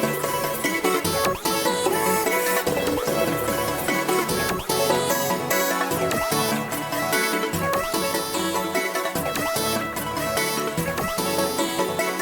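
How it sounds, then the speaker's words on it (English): Dense, high-energy trap-style beat with glitchy vocal chops, layered synths, a lead melody and a rhythmically gated pad, playing loud and continuous with pounding low-end hits and no talking. "here's what the full mode sounds like with the vocal chops, the synths,"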